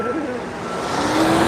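A truck purging at the SpaceX Boca Chica site makes a steady engine drone and hissing rush with a faint rising whine, continuous and moderately loud.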